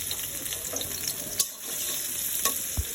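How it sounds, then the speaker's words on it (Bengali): Oil hisses and sizzles in a wok as onions begin frying for a bitter gourd dish, a steady close crackle with a few sharp clinks and scrapes, and no talking. "তো কড়াইতে তেল দিচ্ছি উস্তা ভাজির জন্য।"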